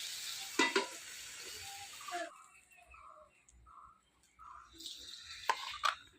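Spices sizzle in mustard oil in a village kitchen pan, a soft crackling hiss with a few clinks of a stirring spoon, fading to quiet spells between brief bursts.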